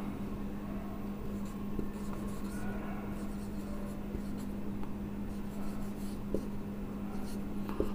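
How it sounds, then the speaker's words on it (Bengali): Marker or chalk writing on a board during a chemistry lesson, a steady faint scratching that runs continuously over a low constant hum, with no talk. "আমরা এখন লিখব এইভাবে প্রশ্ন মতে"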